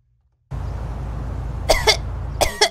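Two pairs of harsh, close coughs break through a low background rumble, each pair quick and forceful, in the game GTA V roleplay.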